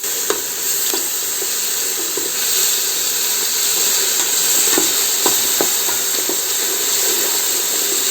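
Onion, green chillies and curry leaves sauté in a hot oiled pan, giving a steady close sizzle and hiss broken by occasional light scrapes and clicks of stirring, with no talking.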